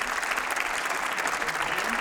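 An audience at a concert applauds a guitarist and songwriter, dense sustained clapping from many hands, close and loud throughout.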